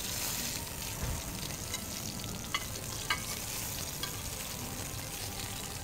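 Kobe beef sears in bone-broth fat and butter with a constant crackling sizzle in the pan, broken by occasional small pops and stirring, without talk.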